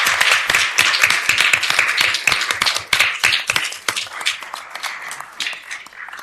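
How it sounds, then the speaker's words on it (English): A room at a city council meeting breaks into a round of applause, with close, crisp handclaps that build and then thin out and fade over several seconds. "can we get one more round of applause for this long process and for the team?"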